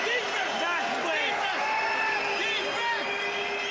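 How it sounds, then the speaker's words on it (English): A boxing crowd roaring and applauding at a fight, a dense sustained wall of cheers and whoops with a commentator talking over it. "look at the crowd react to that"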